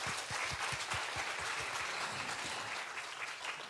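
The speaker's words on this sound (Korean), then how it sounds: "와주신 분께 저는 박수를 보내드리고 싶네요" Audience applause at a Korean traditional music (gugak) concert, a steady wash of many hands clapping together that holds evenly throughout, with no talking over it.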